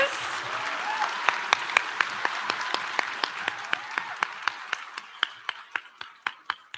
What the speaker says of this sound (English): Let's have a round of applause for all of these graduates and award winners.